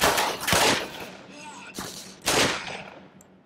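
Heavy pistol fire in the Black Mesa video game: several loud, sharp shots in a rough sequence, each trailing into a brief decay, with quieter gameplay sounds between them.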